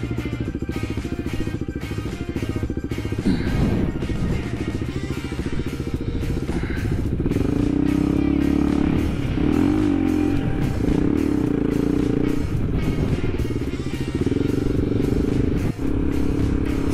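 KTM 390 Adventure motorcycle on Motoz Tractionator adventure tyres riding a dirt road, a steady loud engine drone with shifting revs and clattering gravel throughout, close and continuous with no talk.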